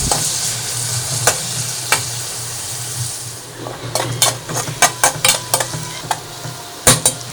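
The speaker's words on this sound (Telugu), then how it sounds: "సన్నగా కట్ చేసి పెట్టుకున్న ఉల్లిగడ్డని దీంట్లో వేసేసుకుందామండి. ఇప్పుడు దీన్ని గోల్డెన్ బ్రౌన్ కలర్ వచ్చే వరకు వేయించుకుందామండి" Thin-sliced onions frying in oil in a pan for a chicken shorva, a steady sizzle running throughout, broken by sharp scraping stirs that come in quick bursts toward the end.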